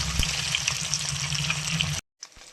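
Fish pieces fry lightly in hot oil in a pan, a steady close sizzle that cuts off abruptly near the end before a faint crackle resumes.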